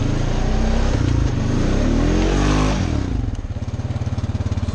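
Honda ATV engine on a creek trail revving hard, its wheels spinning in beach-like sand; a loud, close, steady roar with rising and falling pitch that settles into a lower, pulsing idle near the end.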